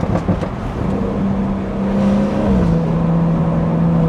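A 500 hp BMW 340 pulls hard from inside the cabin, its intake and exhaust giving a loud continuous engine roar that rises in pitch and then steps down as it shifts, with no talking.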